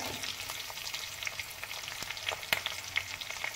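Yellow bell peppers sizzle in hot oil as they are stirred, a close crackling fry with scattered spatters and the soft scrape of stirring, no voices.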